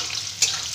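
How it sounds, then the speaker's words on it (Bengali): Potato and taro frying together in a pan, a steady close hiss of hot oil with a brief louder sizzling burst midway. "আলুটা এবার একটু ভেজে নেব, গাঁঠি কচুর সাথে আলুটা ভেজে নেব"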